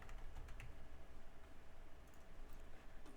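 Steady typing on a computer keyboard, close and continuous, with quick irregular key clicks and no voices.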